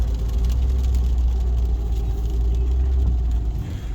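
A 2011 Lexus IS250 AWD V6 cruises on a test drive, its steady low engine drone and road rumble filling the cabin at an even level, easing slightly near the end, with no talk.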